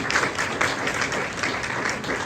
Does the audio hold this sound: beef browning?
no